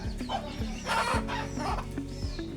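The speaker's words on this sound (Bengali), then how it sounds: "মুরগি" Village chickens cluck faintly in a rural yard on a winter day, soft calls scattered over a steady low background rumble, with no talking.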